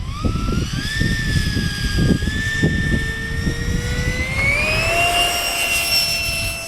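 A 70mm EDF radio-controlled model of the XB-70 Valkyrie jet takes off, its electric ducted fan giving a loud, steady whine whose pitch climbs as it throttles up and lifts away.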